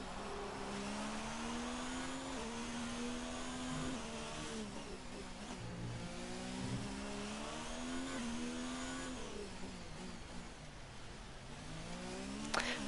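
A Ferrari racing car engine in a racing video game at the Monaco circuit whines steadily at high revs, climbing and dropping in pitch through repeated gear changes and corners, with no one talking.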